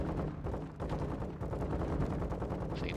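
Gunfire in the video game Modern Warfare 2: dense, rapid automatic shots and bursts run without a break for the whole stretch, loud and close, with no talking.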